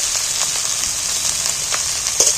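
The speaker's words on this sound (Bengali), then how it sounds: "পেঁয়াজের মধ্যে তেলের মধ্যে মেরে নিচ্ছি একটু ভাজা ভাজা করে নিয়ে একই সাথে এখানে মাংস কিমা করা রয়েছে আমি এইটাও এর মধ্যে দিয়ে দিচ্ছি" Onions and minced meat fry together in hot oil, a steady close sizzle with a few soft stirring clicks and a brief louder pop near the end.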